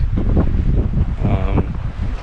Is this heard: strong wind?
yes